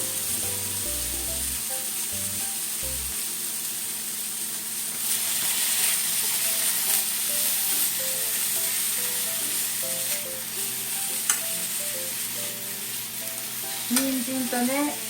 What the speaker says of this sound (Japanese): 人参とね、大根とね、揚げを炒めようと思って